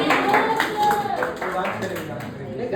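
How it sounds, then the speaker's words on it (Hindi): Rhythmic clapping at a birthday celebration, a small group keeping a steady beat close by while voices talk and sing over it. "ताली बजाओ।"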